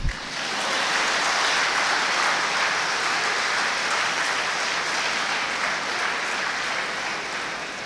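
An audience at a student induction programme claps steadily for several seconds, a broad even wash of hand claps that holds level and tapers slightly at the end.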